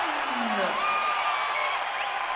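Spectators at a SMSU men's college basketball game cheer after a slam dunk, a sustained roar with whoops rising above it, heard at a distance behind the play-by-play commentary.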